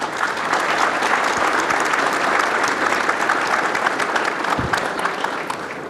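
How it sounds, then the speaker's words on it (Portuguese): Sustained applause from an audience at an interreligious dialogue panel, welcoming a sheikh as guest speaker; dense, steady clapping that stays loud and even throughout, with no talking over it. "Palmas fraternas para o Sheikh."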